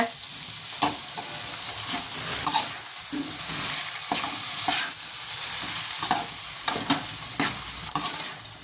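Onions and tomatoes sizzle steadily in a hot pan, with occasional scraping and stirring sounds from a utensil, close and continuous.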